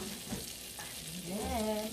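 Butter and olive oil heating in a pan on a home stove give a steady soft sizzle, with a faint tonal hum rising midway. The sizzle runs continuously and stays close and moderate in level.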